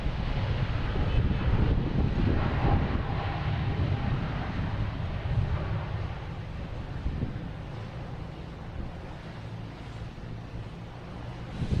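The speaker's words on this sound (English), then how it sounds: "Here's Korean Airlines taking off on 4 right." Korean Airlines jet taking off from runway 4 right at Boston Logan Airport in fog, a broad distant engine roar with wind buffeting the microphone, strongest early and slowly easing off.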